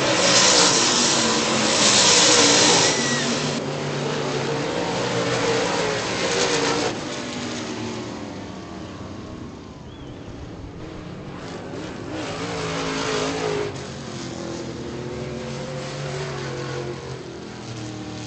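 A late model race car roars toward the finish at Virginia Motor Speedway, its engine loud and droning at first, then fading and swelling again as it circles past at a distance.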